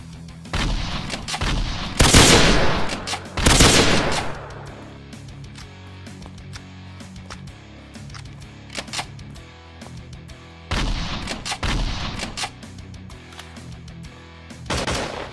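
Gunfire in the Slendytubbies 3 game: loud bursts of rapid shots near the start, sparse scattered pops through the middle, and another cluster of shots later, close and sharp with no talking.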